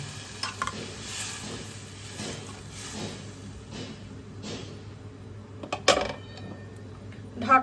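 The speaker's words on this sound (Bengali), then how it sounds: "এবার আমি মশলা বাটা ধোয়া জলটা দিয়ে দিচ্ছি।" Water used to rinse ground spice paste goes into a pan of frying aloo dum masala, giving a low steady sizzle with a few soft utensil clinks and scrapes, close by.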